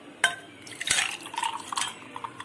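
Spiced pani puri water poured into a glass in a kitchen, with sharp clinks of the glass and utensils and a short splashing pour in between, heard up close.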